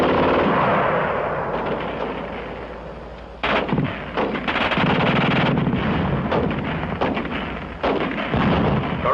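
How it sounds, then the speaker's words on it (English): A German machine gun firing in a war film: rapid bursts of automatic fire with loud, sharp reports over a dense roar of battle noise, continuing throughout. "The German gun shoots fast."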